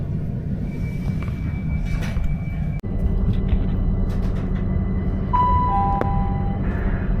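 Steady low rumble of a moving Southern passenger train heard from inside the carriage, with constant broadband noise, brief tonal whines and a short dropout midway.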